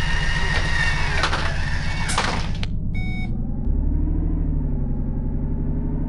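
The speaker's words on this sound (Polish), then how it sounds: "Uwaga, drzwi się zamykają." Doors on a Solaris Urbino 12 hybrid city bus close with a pneumatic hiss and thud, followed by a short chime and the low idle rumble of the bus.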